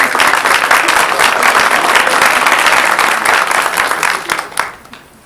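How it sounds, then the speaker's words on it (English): A Caddo Parish School Board meeting audience gives Miss Chambers and her support group a round of applause, a full, close wash of clapping that tapers off over the last second. "We'll give you a round of applause"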